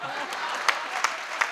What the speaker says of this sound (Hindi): थोड़ी तालियां बढ़ा दीजिए एक बार, थोड़ी ऊर्जा मिलनी चाहिए।